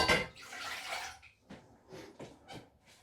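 Pickling liquid splashes into a warming pan in a burst of pouring, followed by several soft drips and faint clinks, quiet and close.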